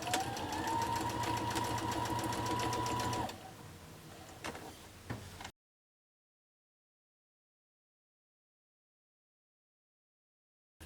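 A sewing machine stitches sashing onto a four-patch quilt block, with a steady, close mechanical whir for about three seconds. It slows to a few clicks and then falls silent.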